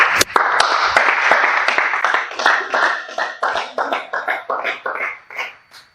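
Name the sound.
applause for a presenter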